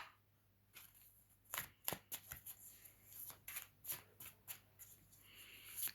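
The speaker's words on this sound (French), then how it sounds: "Je vais quand même tirer une autre carte." Tarot cards being shuffled and drawn by hand, a series of quiet crisp riffling and slapping bursts in irregular rhythm, close and alone with no talk.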